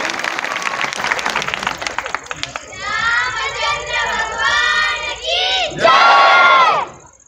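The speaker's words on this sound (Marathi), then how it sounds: "वा, टाळ्या वाजवा त्यांच्यासाठी" Crowd at a mass Hanuman Chalisa gathering in a village, rapid applause at first, then loud cheering and shouting from many voices, including children, swelling to a roar near the end.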